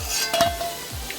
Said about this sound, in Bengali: আলুগুলো লাল লাল করে ভেজে নেই